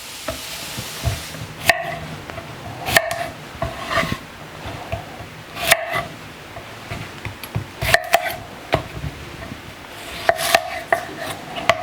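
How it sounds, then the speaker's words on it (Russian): A knife taps repeatedly on a cutting board in quick, uneven bursts, slicing cucumber into thin strips, with a faint sizzle underneath. "Огурец нарезаем тонкими полосками."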